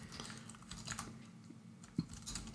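Quick typing on a computer keyboard during JavaScript coding, faint close clicks in uneven bursts with one sharper keystroke, heard alone without talking.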